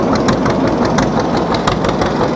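A 1948 John Deere D tractor with a straight pipe idles loud and close, its steady, rough, thumping exhaust pulsing evenly throughout with no voices.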